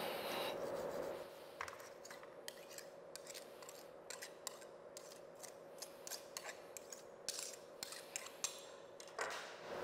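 A large scraper trimming the top of a compacted soil specimen level with its mold, faint repeated gritty scraping and rasping strokes, quiet and close, with a steady hum underneath.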